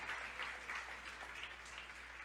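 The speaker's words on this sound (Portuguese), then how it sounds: "Você pode aplaudir o Senhor?" A church congregation applauds the Lord during a Portuguese-language sermon, a soft, steady patter of many hands clapping at some distance.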